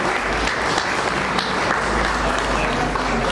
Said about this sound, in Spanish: Además, pues aplauso para ustedes.